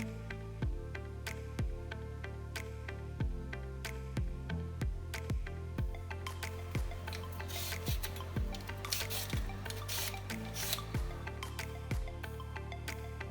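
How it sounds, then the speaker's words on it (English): Knife cutting peeled potatoes into cubes on a board, a series of crisp, evenly spaced chops close up over soft background music. "Now I'm going to cut them into cubes."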